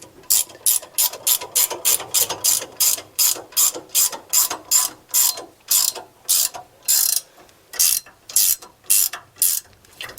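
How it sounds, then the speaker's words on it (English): Ratchet wrench clicking steadily as it tightens bolts on 3-inch drop spindles for a C10 truck, loud and close, in quick bursts of rapid pawl clicks separated by brief pauses, with no voices. "I'll just wrench it the right way."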